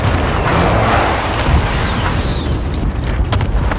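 Airstrike in a first-person shooter video game, a loud, dense rumbling boom that rolls continuously through the whole stretch with crackling debris on top and no talking.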